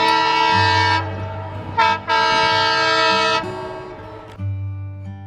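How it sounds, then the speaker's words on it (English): A train sounds a loud, sustained horn in several long blasts with short breaks, heard close and alone over a low rumble. "Train,"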